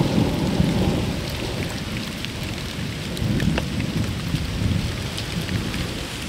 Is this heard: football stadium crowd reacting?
no